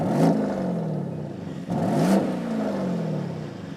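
A 2024 Porsche Cayenne S with a 468-horsepower V8 revs twice in quick succession, each rev a rising, sharp engine note that drops away again.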